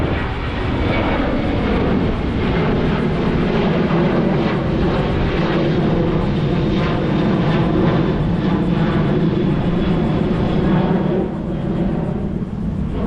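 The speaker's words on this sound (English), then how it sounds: "Airplane just took off from the airport. Big one." A large airplane climbs out after takeoff from a nearby airport by sand-dune cemetery grounds in Daytona Beach, Florida, its loud engine roar steady and broad across the whole stretch, easing slightly near the end.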